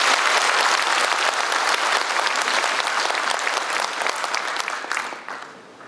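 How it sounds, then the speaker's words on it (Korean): Loud, sustained applause from a large crowd at a Korean veterans' association general meeting, dense clapping filling the whole stretch before it starts to fade at the very end. "뜨거운 박수 부탁드립니다."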